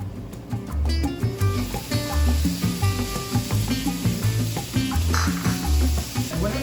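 Ground pork sizzling loudly in a hot pan while cooking tortang talong, a steady frying hiss with rhythmic stirring and scraping pulses, close and continuous with no talking.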